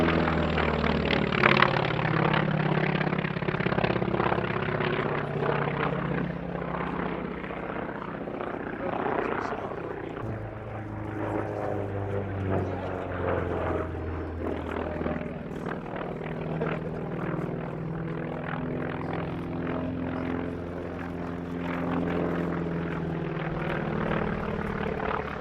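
A Grumman FM2 Wildcat, the General Motors-built carrier fighter, flies over an airshow at Duxford, its propeller engine a sustained, moderately distant drone rising and falling under continuous talk.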